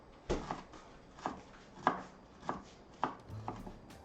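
A knife chops onions on a board in about six crisp, evenly spaced strokes, close and moderately loud, with no talking.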